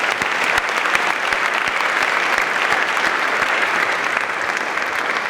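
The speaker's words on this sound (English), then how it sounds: "So let's clap it up for Coach." An audience at a Boys State opening ceremony claps steadily for Coach, a dense, even roll of many hands sustained at full volume for about five seconds with no voices on top.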